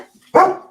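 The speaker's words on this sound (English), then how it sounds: "Dog's gone wild." A single sharp dog bark, loud and close, with a short tail after it.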